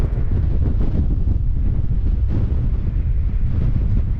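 Strong wind buffets the microphone in a steady, heavy roar with gusty fluctuations, loud and unbroken throughout, with no voices.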